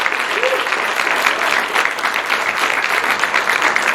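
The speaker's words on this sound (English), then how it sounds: "a big round of applause to everybody present on the dais" Audience applause at a dental conference, sustained dense clapping from a crowd, loud and even throughout the few seconds.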